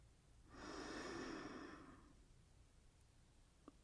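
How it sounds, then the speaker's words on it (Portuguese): A single slow inhale through the nose during a guided relaxation breathing exercise while lying in bed, a soft airy hiss that swells and fades over about a second and a half, close and quiet, followed by near silence. "Puxe o ar pelo nariz."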